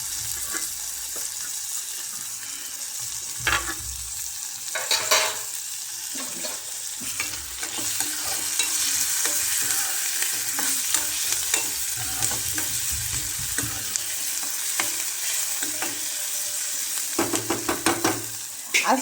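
Tomatoes are tipped into hot oil tempering and stirred in a pan, a steady sizzle of frying with repeated scraping and clinking of a spoon against the vessel, close and clear.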